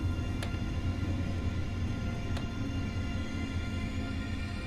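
An ICE high-speed train slows to a stop on the Cologne high-speed line in Train Sim World 2. A low, continuous rolling rumble holds steady throughout, broken by two faint clicks.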